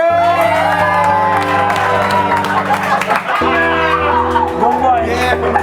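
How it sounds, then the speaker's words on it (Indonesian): A studio crew at an Indonesian TV show claps and cheers with whoops and shouts while music plays loudly underneath. "Tepuk tangan yang paling meriah. Kru harus tepuk tangan semua ya."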